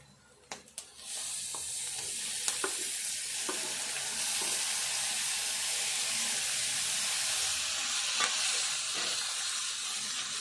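Chopped tomatoes fry and sizzle in a pan and are stirred with a spoon while cooking for a Telugu tomato curry made with moong dal. A steady close hiss runs throughout with a few light scrapes and clinks, and nobody speaks.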